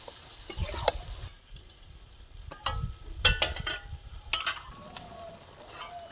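Chicken stirred in a pan with four garlic cloves and a large potato, heard as irregular, close scraping and knocking strokes of a spatula over a low sizzle, with quiet gaps between clusters of stirring and no speech.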